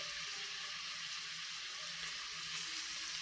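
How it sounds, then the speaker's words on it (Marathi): Moong and poha tikki shallow-fry in oil in a pan over medium heat, giving a steady, soft, even sizzle that lasts throughout with no pauses or talk. "मीडियम आचेवरती दोन्ही साइडनी आपण खरपूस होईपर्यंत छानपैकी शॅलो फ्राय करून घेऊया"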